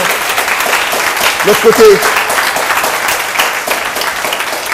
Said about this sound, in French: Applaudissez-vous quand même pour ceux qui sont